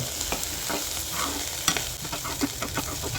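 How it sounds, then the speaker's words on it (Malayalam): Bitter gourd fries with onion in a pan, giving a dense, constant sizzle close up, broken by scattered scrapes and clicks of stirring and no voices. "നമ്മുടെ പാവയ്ക്ക് ഇങ്ങനെ ഫ്രൈ ആയിക്കൊണ്ടിരിക്കുകയാണ് കേട്ടോ"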